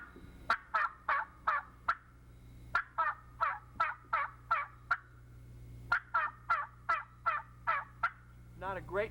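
Imitated yelping of a young wild turkey gobbler on a call, three close, loud runs of about seven or eight raspy yelps each, slower and deeper than a hen's, with a short gap between runs.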